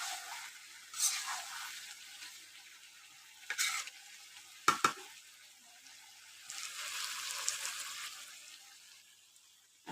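Goat meat frying in a pan with an even sizzle throughout, broken by a few sharp stirring scrapes and clanks, steady and close with no talking.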